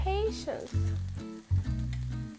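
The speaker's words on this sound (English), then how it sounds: "Make sure it's sizzling." Loud, close sizzling from burger meat in a pan on very high heat, steady and crackling, with scraping stirs and a low hum underneath.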